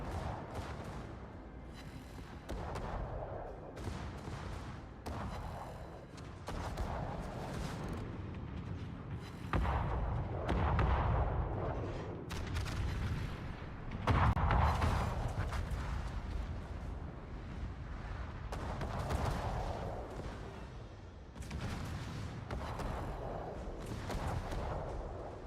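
Heavy naval gunfire from the battleship Bismarck pounds a ship in the World of Warships video game, with repeated deep booming blasts and rumbling impacts rolling one after another over about twenty-five seconds, and no talk.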